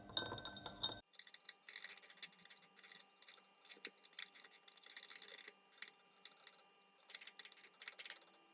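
A spoon clinks and taps repeatedly against a glass of sugar solution in an irregular stirring rhythm, quiet and close, with no voices.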